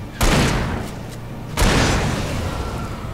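In Alan Wake's coal mine forest, a gun fires twice in quick succession, each shot a loud, close boom with a lingering rumbling tail that fades before and after the second blast.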